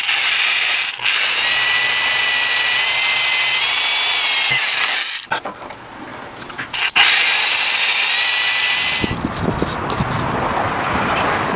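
A power drill bores mounting holes in a wooden sun finder, a loud steady whine that cuts off briefly twice, then returns with grinding, ratcheting bite into the wood.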